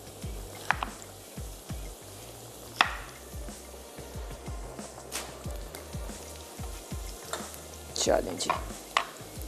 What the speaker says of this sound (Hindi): शिमला मिर्च की तरफ और इसकी हम कर लेते हैं कटिंग